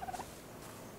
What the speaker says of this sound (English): Oh, look, a chicken